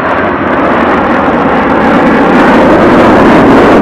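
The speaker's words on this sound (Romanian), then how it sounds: "au fost aparatele Eurofighter Typhoon, aparținând forțelor aeriene italiene" Eurofighter Typhoon fighter jets of the Italian Air Force flying past at an air show with gear down in tight formation, a loud, continuous broadband jet roar that swells and holds close overhead with no talk.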